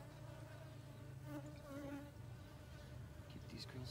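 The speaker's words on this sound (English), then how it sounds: "There's a lot of bees in here." A dense, steady drone of many honey bees buzzing close by inside a hive, a continuous hum with no pauses.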